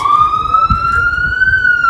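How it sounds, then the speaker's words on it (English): A police-style siren wails on a New York City street, one long rising tone sustained loud and close, with faint traffic rumble beneath. "Also, the siren."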